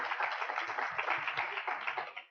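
An event audience applauds steadily for Callum Clark at a hybrid awards ceremony, a dense wash of many hands clapping at moderate volume, fading at the end.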